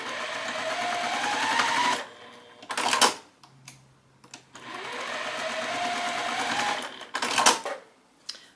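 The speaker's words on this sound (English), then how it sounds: "I'm gonna stitch on the inside of my line towards the corner." A sewing machine stitching quilt block pieces, running in two steady whirring bursts of about two seconds each, each ending with a few quick clacks, with quiet pauses between; close and clear with no talk.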